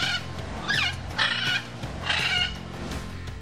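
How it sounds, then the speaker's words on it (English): Macaw squawking in a rainforest setting: three loud, harsh, raspy calls in close succession, each lasting about half a second, clear and near with no talk over them. "her squawk will really give you something to talk about"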